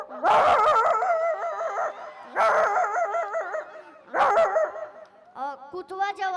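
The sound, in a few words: man imitating a village dog barking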